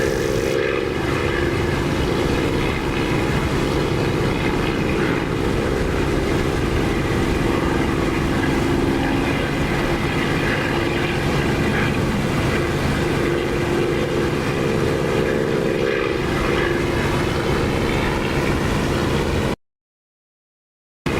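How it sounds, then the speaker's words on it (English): A propeller aircraft taking off in the DCS flight simulator makes a loud, steady engine drone that holds for about twenty seconds and then cuts out abruptly. "Undead is taking off on the taxiway."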